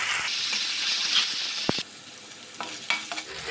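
Marinated meat sizzles in hot oil as it is stirred. A moderate frying hiss runs under scraping utensil knocks and small clatters, with no voices.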